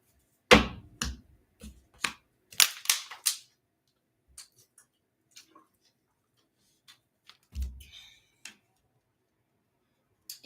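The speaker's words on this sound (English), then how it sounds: "Last shuffle." A run of sharp, irregular tarot card riffles and taps from shuffling, loud bursts at first and then sparser light clicks, close by with no talking.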